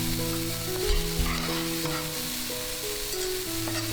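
Frozen peas and corn hitting a hot pan with carrots for shrimp fried rice, a loud continuous sizzle with rhythmic stirring scrapes and spatula knocks, close and without speech.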